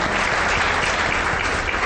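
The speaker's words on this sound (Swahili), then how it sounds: "Makofi kwake" A short burst of dense, steady applause from a crowd, loud and continuous throughout.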